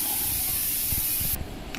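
Steam hisses loudly and steadily from a pressure cooker as its lid is taken off after cooking mutton and chickpea curry, the spray cutting off abruptly near the end, with faint clatter beneath.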